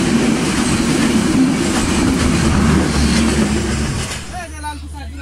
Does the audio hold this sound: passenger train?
yes